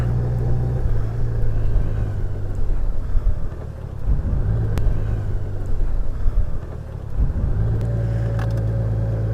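A 2020 Honda Goldwing motorcycle ridden at low speed through a turnaround, a steady low engine rumble that eases and rises again with wind noise, close and continuous.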